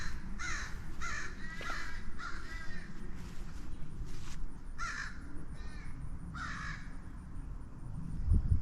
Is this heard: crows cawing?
yes